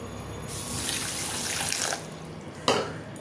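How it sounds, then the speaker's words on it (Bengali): Water is poured into a pan with sugar for syrup, a steady splashing stream lasting about two seconds, then a brief second splash near the end. "1 কাপ জল দিয়ে দেবো, এটার মাপের 1 কাপ জল দিয়ে দিলাম"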